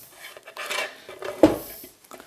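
An onion drops into a pot with a few light clinks and knocks of kitchenware, a short cluster of close, moderately loud clatter with quieter handling around it.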